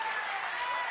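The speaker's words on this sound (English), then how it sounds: "All the women who are clapping in the audience right now" Women in a studio audience clap steadily together, a dense, continuous wash of applause filling the room, with faint voices underneath.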